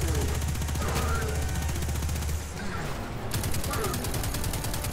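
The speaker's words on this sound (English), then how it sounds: "This auto rifle is where it's at" Rapid automatic gunfire from an auto rifle in Destiny 2, a dense rattling stream of shots that pauses briefly midway, then resumes, loud and close, with a voice talking over it.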